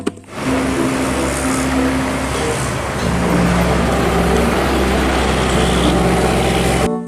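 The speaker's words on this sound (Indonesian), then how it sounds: "Wow, teman-teman, ini school bus." A school bus drives past with a steady, loud engine rumble and road noise that holds for several seconds, with no talking over it.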